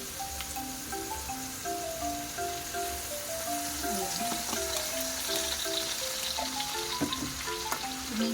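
Chopped tomatoes sautéing with fish sauce for pinakbet give off a steady, moderate sizzle and crackle with occasional stirring clinks, accompanied by a faint tonal hum in the background, and no one talks.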